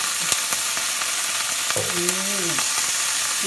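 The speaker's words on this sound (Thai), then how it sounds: "ทอดหมูนี่จ้ะ" Pork frying in a pan, a steady crackling sizzle throughout with a few sharp pops and brief tones overhead.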